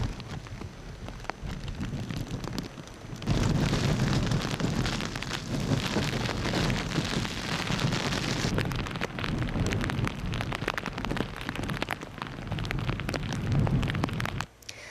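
Heavy rain pours steadily across a city during an amber and red rainstorm warning with a thunderstorm warning in force, a dense continuous roar that swells louder partway through, with low rumbles of thunder underneath.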